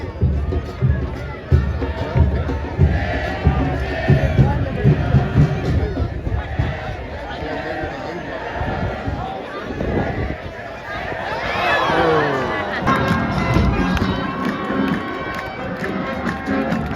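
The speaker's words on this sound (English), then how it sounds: "I think it's a pretty nice crowd." Crowd at a Cosmos soccer game at Hinchliffe Stadium in Paterson, New Jersey, on a windy day: constant chatter and murmur with surges of cheering, rhythmic thumps and a rising roar near the middle, voices close by.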